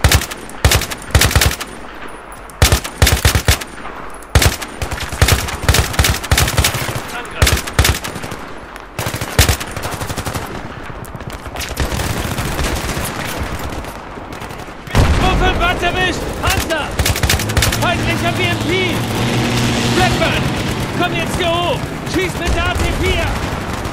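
Rapid bursts of machine-gun and rifle fire crackle through a Battlefield 3 singleplayer firefight, loud and close in staccato volleys, then give way to a denser, continuous roar of battle with shouted voices under it.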